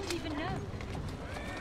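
A horse's hooves clip-clop rapidly at a gallop in the video game Assassin's Creed Syndicate, set in Victorian London, fairly faint beneath speech.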